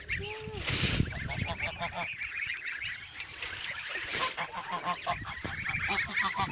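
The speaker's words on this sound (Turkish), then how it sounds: "Gördüğünüz gibi yerli kazlarımız var." Domestic geese honk repeatedly in a noisy, overlapping chorus close by, with brief harsh calls throughout and no talking.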